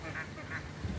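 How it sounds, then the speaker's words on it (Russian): Geese at a zoo pond, swimming alongside ducks and ducklings, give a short burst of nasal honks and quacks close by, with no talking over them. "Гуси. Га-га-га."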